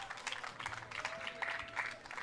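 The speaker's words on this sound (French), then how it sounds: "vous pouvez l'applaudir" Marathon spectators at a roller-skating marathon in Rennes clap for the winner, Bart Swing, a faint, scattered patter of applause with a brief tone passing through.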